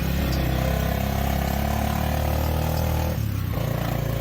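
A motor tricycle engine runs steadily at a loud, close idle with a deep rumble, briefly dipping in pitch near the end before settling back.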